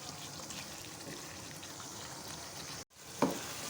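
Chicken salan with coriander stirred in a pan, a soft steady sizzle with faint stirring, a brief dropout near the end, then a light clink, quiet and without voices.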